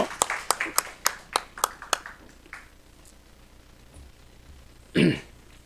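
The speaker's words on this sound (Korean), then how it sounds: "우리 하나님께 박수로 영광 올려드리겠습니다" A church congregation applauding at a year-end service, a burst of sharp claps that quickly thins out and fades into quiet room tone, with a brief cough or noise near the end.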